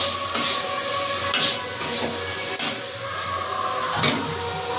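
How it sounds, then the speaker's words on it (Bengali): Turmeric stirred in a frying pan, a steady soft sizzle with repeated scraping strokes of a utensil against the pan at a loose, unhurried rhythm, close and moderately loud with no voices. "হলুদ, একটু নাড়াচাড়া করে নেব"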